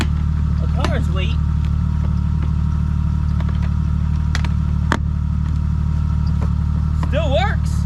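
A car engine idles steadily near a Milwaukee Packout case, a low continuous rumble running throughout with people talking intermittently over it.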